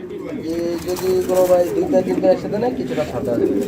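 Lahori pigeons coo with low, rolling calls in a steady stream, close by, while a voice talks over them.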